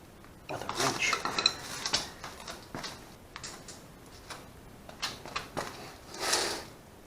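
Metallic scraping and clicking come up close as a quarter is turned with a wrench while valves are adjusted on a Honda Rebel 250, in several irregular bursts with short pauses and no talking.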